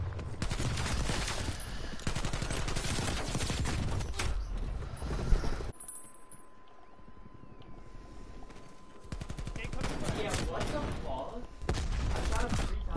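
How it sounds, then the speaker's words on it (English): Shotgun blasts from the video game Call of Duty Cold War, loud sharp reports amid dense in-game gunfire, with a quieter lull in the middle before the shooting resumes; players talk over it. "The shotgun's insane."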